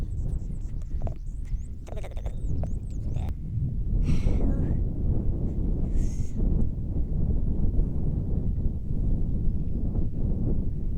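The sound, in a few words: wind blowing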